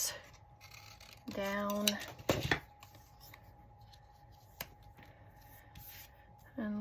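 Scissors cut a piece of pre-backed paper for a collage postcard, a few quick close snips and rustles in one short burst, with a person talking softly around them.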